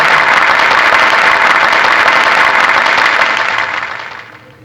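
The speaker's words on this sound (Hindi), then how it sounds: "एक बार जोरदार तालियों से स्वागत करिए," A crowd at a Chhath Puja festival held by a community service organization gives visiting guests a loud welcoming ovation, a roaring, steady wash of close clapping that fades out near the end.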